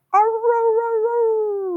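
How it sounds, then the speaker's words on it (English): Coyotes calling to each other at night: a single sustained, wavering howl rising at the start and then holding steady, loud and clear against a quiet background, with no talk. "of the coyotes calling each other."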